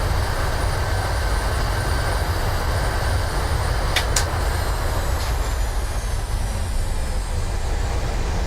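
A Boeing airliner rolls out after landing in a PMDG flight simulator, with a steady, loud broadband rumble of engines and wheels on the runway, plus a couple of brief higher clicks midway.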